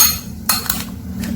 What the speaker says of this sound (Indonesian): Kita aduk-aduk lagi ya biar merata